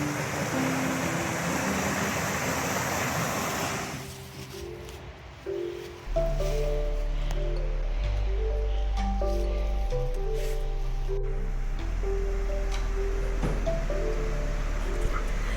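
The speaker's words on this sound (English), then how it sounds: "I love being up close to the river, being able to hear the sounds of the water rushing" River water rushing steadily along a trail at Balls' Falls Conservation Area, a broad hiss that dominates the first few seconds, then fades beneath a low droning tone and sustained notes.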